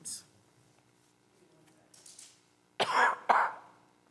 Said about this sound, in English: I'm going to apologize ahead of time for the coughing.